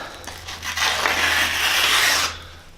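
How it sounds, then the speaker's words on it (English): Fine 1500-grit sandpaper with WD-40 rubbed back and forth around a mountain bike shock, a steady close scraping friction that swells for about two seconds and then fades. "rip a strip, fold it around the shock, and then rub it like this"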